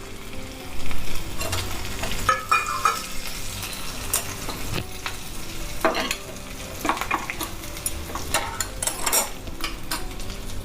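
Ginger, green chillies and curry leaves fry in hot oil with a lively, close crackle and sputter, the spattering rising in bursts while a spoon scrapes and stirs against the pan.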